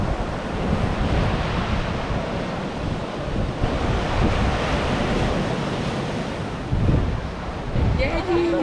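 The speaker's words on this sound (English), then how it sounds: "Still pretty windy down here though" Steady wind gusts across a Benidorm beach at high tide, blending with the wash of surf into a dense, continuous roar that rises and falls slightly, moderately loud with no clear speech.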